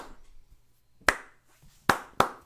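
Three sharp hand claps ring out close and distinct, the first alone and the last two in quick succession, over a quiet room with faint background murmur.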